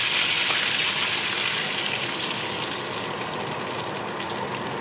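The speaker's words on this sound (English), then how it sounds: "Fish is going back into the oil. And now in with the coconut milk." Coconut milk pours into a pan of hot oil holding fish for a Thai green curry, giving a steady loud rushing hiss and bubbling that holds continuously from start to end with no talk.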